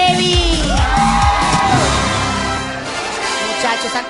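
A live studio audience on a Mexican variety show yells, whoops and cheers loudly, a dense wash of voices and applause that carries on throughout, with a tonal musical swell beneath.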